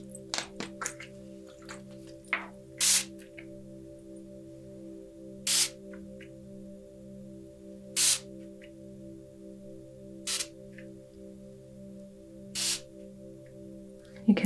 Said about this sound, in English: So I'm going to just do a little spritz.